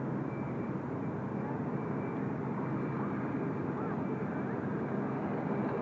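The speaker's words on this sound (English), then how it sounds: "Our Cebu Pacific just rolling out there, runway 16 right from Manila, 459 seaters." A Cebu Pacific airliner rolling out on runway 16 right at Sydney Airport after landing from Manila, a steady loud engine roar and rumble that holds evenly throughout.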